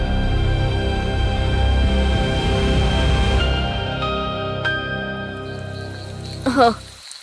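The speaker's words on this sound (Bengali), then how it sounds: "বৃষ্টি বাদল আরম্ভ হয়ে গেল।" Steady rain pours down during a stormy spell, a dense broadband hiss that fills the first several seconds before easing, with a brief clatter near the end.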